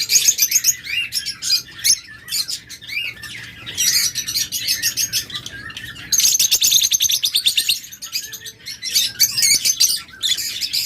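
Pairs of lovebirds and cockatiels kept for sale chirp and tweet in a dense, overlapping chorus, close by and loud, with brief lulls between bursts of rapid calls.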